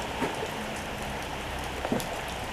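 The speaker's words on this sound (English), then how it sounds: "Look, it's still raining." Steady rain falling, a continuous soft hiss of drops with a few louder patters on a nearby surface; no voices.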